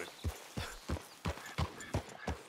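Horse hooves clip-clopping on the ground in the Red Dead Redemption 2 video game, eight evenly spaced thuds at a steady walking pace, clear and close with no talk over them.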